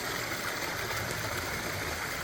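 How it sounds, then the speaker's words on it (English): A garden pond waterfall runs steadily, a continuous even wash of splashing water with no talk over it. "how we rebuilt this old leaking waterfall into this"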